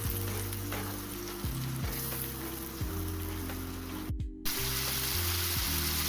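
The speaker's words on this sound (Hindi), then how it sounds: "तो चलिए इसे तेल छोड़ने तक अच्छे से भून लेते हैं।" Masala and chopped tomato fry in oil in a pan, a loud continuous close sizzle with occasional stirring and a brief dropout partway through, no talking.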